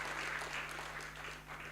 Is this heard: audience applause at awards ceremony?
yes